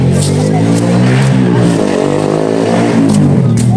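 A small motorcycle engine revs steadily and loudly while hauling manure, its harmonic drone rising and falling slightly and filling the whole stretch without pause.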